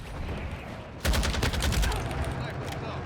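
Rapid automatic gunfire in the video game Modern Warfare 2 Ground War, a loud sustained burst of shots breaking in after a second of busy battle noise and continuing steadily.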